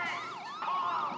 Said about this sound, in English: We're gonna get our lights and sirens on